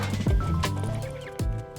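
Horse hooves from a ridden horse in the survival game Rust, heard as a few heavy thuds and clops with a neigh-like call, up close and fairly loud, no talking.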